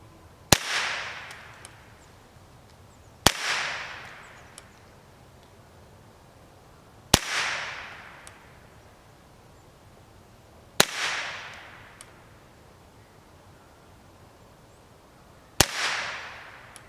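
Five sharp, evenly spaced shots from an HK 416 D .22 LR carbine crack out about three seconds apart, each followed by a brief ringing decay.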